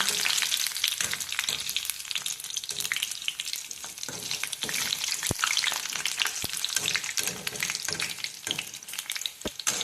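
Pakoras deep-fry in oil in a kadhai, a dense, continuous sizzle and bubbling up close, broken by scattered sharp taps of a utensil against the pan; no one talks.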